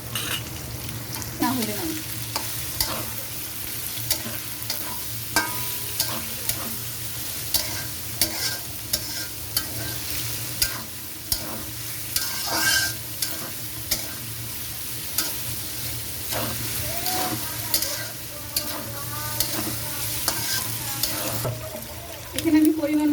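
Yardlong beans stir-fried for vegetable chow mein, sizzling steadily in a hot pan with repeated scraping and tossing strokes of a spatula; a voice speaks briefly in Bengali over the cooking.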